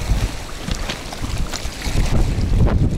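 Strong gusty wind buffeting the microphone on a frozen lake during winter ice fishing, roaring in uneven surges that build louder toward the end, with no voices.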